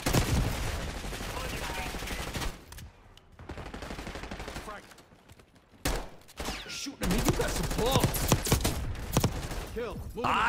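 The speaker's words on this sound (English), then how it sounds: "Ooh, that's a heavy shotgun." Heavy shotgun blasts in the shooter Black Ops 6, loud booming shots in bursts with short gaps, dense gunfire layered over game noise.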